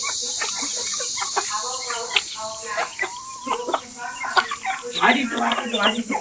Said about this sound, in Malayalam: കോഴിക്ക് ഗോതമ്പിട്ടപ്പോൾ